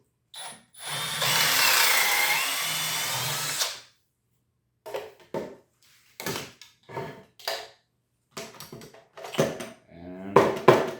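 A drill bores a pocket hole through wood held in a Kreg 310 pocket hole jig set with a lock collar, one loud sustained whirring run of about three seconds, followed by clicks and clattering handling noises.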